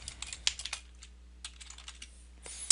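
Quick, irregular keystrokes tapped on a computer keyboard, fairly close and quiet, in short bursts with a brief pause in the middle and one sharper key hit near the end.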